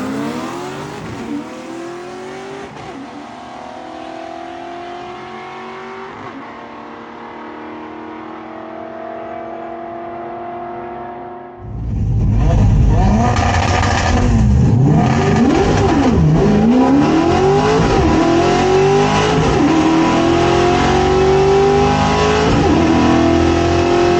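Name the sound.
1968 Torino drag car launching and power shifting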